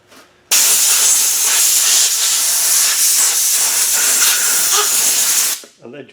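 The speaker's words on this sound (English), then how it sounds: "Now we're going to put some brake cleaner, or alleged brake cleaner, in the holes, the threads." Brake cleaner sprays from an aerosol can into threaded holes during a Rover air locker pinion and crown wheel job, a loud, close, continuous hiss lasting about five seconds that starts and stops abruptly.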